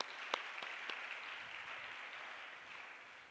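A church congregation at a Hindi worship service claps, with a few sharp distinct claps at the start followed by a soft, fading patter of applause.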